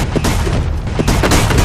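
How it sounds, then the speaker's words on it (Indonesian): Gunfire rattles through a film shootout in a casino. Dense, loud volleys of shots and booms overlap continuously above a heavy low rumble, with a few sharper bursts standing out. "sehingga terjadilah baku tembak yang tak dapat terhindarkan"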